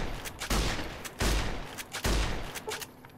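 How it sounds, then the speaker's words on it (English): Pancor Jackhammer automatic shotgun in the video game Fallout New Vegas, firing three heavy booming blasts at a steady spacing, each followed by a short trailing echo, with no talk. "My shotgun's amazing."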